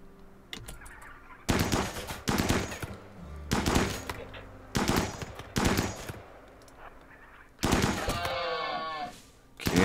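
Gunfire from hunting wild boar in RimWorld, heard as a run of sharp, loud bursts spaced about a second apart, with game sounds between the shots.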